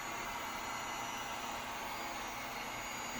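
A heat gun blows hot air steadily onto PVC pipe being softened to form a dust collection hose adaptor, giving a constant close, even roar with no breaks for the whole stretch.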